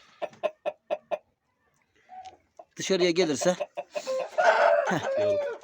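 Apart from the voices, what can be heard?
rooster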